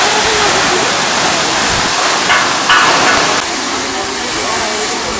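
Fung Fung waterfall at Ranipauwa in Nuwakot pours with a loud, constant broadband roar that stays steady throughout, with a voice speaking faintly beneath the rushing water.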